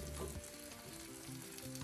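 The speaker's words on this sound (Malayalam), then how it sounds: "ഈ സമയം ഞാനിതിലേക്ക് നമ്മൾ എടുത്ത് വെച്ചിരിക്കും വേവിച്ച് വെച്ചിരിക്കുന്ന മട്ടൻ്റെ പീസസ് ഇട്ട് കൊടുക്കുകയാണ്." Cooked mutton pieces drop into roasting masala for mutton chukka and sizzle in a steady, dense frying hiss with faint stirring, quiet and continuous, with no voices.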